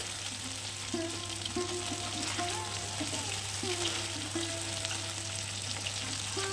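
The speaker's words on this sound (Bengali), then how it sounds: "তো এইভাবে করে আমি সমস্ত মাছগুলো ভেজে নেব।" Lote fish (Bombay duck) frying in a little oil in a pan, giving a steady, close, continuous sizzle and crackle that holds at an even level throughout, with no talking.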